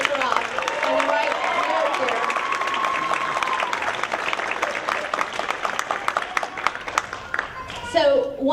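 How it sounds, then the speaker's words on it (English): An audience at a cherry blossom queen pageant claps for a candidate in a sustained round of applause, and a voice speaks over it from start to finish. "Give her another round of applause"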